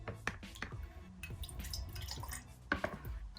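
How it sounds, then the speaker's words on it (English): Flat beer pours and splashes into a kettle with irregular trickling and sloshing sounds and a few knocks of the vessel, fairly close. "we're going to use this to pour it all here in a kettle"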